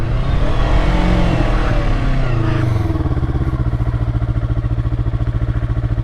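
A motorcycle engine runs loud and close on the way to a car wash, with a steady throbbing rumble that shifts pitch partway through, then settles into an even, pulsing idle-like beat.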